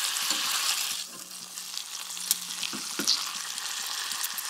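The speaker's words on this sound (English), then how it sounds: "It is important to take the time to evenly brown or sear the entire surface without burning." Meat searing and browning in a hot pan, giving off a continuous crackling sizzle with occasional sharper pops and faint clinks, close and steady with a faint low hum underneath.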